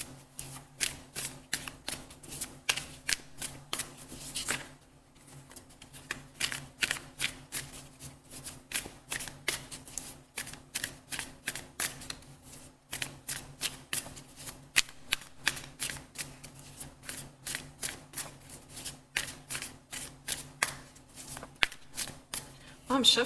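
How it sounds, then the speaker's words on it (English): Tarot reading cards being shuffled in a steady run of quick, crisp riffles and flicks, close and fairly quiet, with a brief pause near the five-second mark. "I'm shuffling these cards"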